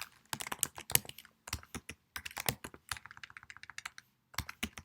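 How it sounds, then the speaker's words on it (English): Fast, close computer keyboard typing in irregular bursts of crisp key clicks separated by short pauses, heard alone without talk. "I've got to stop typing what I'm saying."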